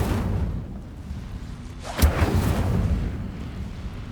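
An Incendio fire spell cast in Hogwarts Legacy: a low rumbling build followed by a sharp, bright whooshing burst of flame that rolls off into a crackling, booming tail, with no talk over it.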